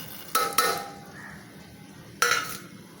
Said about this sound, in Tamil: இப்போ எடுத்து வச்சுருக்கிறதெல்லாம் போட்டுடலாம்.